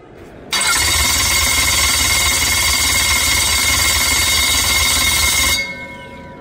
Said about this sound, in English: It turns out that we've actually maxed out this starter with our small battery